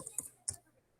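Two quick computer mouse right-clicks, close and crisp, with a short gap between them in an otherwise quiet room and no voices.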